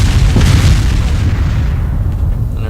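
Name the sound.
explosions in the video game ArmA: Armed Assault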